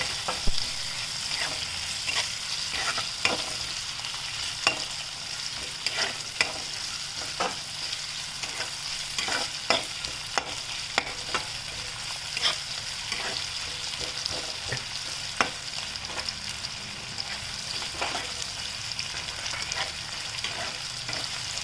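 Onions fry in oil in a pan for a bitter gourd vangi bath, giving a steady soft sizzle with scattered crackles and pops, no voices over it.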